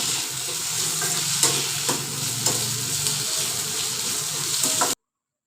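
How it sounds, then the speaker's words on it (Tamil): Onions and tomatoes sauté in a pan for village-style kara kuzhambu, a steady close sizzle with a few scraping stirs and a low hum running through, no voices. "தக்காளியும் போட்டு வதக்கிக்கலாம்"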